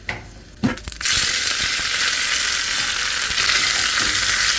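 Dried red chillies and curry leaves drop into hot oil with a couple of sharp clicks, then burst into a loud, close, continuous sizzle that holds steady to the end.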